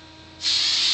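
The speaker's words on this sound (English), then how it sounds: "If you want to set your makeup, use extra hold hairspray." Aerosol can of extra-hold hairspray sprayed onto a face to set makeup: after a quiet moment, one loud, steady, close hiss starts and holds to the end.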